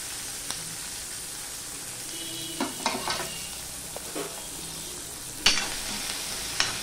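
Onion and green chili fry in a pan with a soft, continuous sizzle, and a handful of sharp utensil knocks and scrapes are heard as they are stirred.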